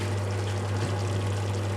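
Water is poured into a pot of cooking chicken tikka, a steady close pouring and trickling rush that runs unbroken for under two seconds.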